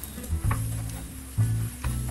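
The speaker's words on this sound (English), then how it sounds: "Eggs or onion tomato are getting like nicely mixed." Eggs with onion and tomato are stirred together in a hot frying pan, giving a low sizzle broken by a few scraping strokes of the spatula, close and moderately quiet.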